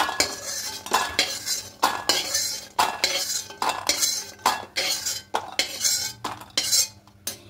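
Fried lentil dumplings (bori), lightly browned in a little oil, scooped out of a pan with a metal utensil, giving repeated sharp scraping clinks in an even rhythm, close and clear over a faint sizzle, with no voices.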